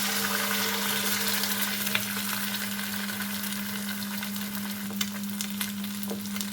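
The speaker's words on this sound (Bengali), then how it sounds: "এখন এই পর্যায়ে আমি দিয়ে দেব একটা ডিম।" An egg sizzles and fries steadily in a pan, with a dense crackling hiss and occasional stirring clicks, close and loud throughout with no talking.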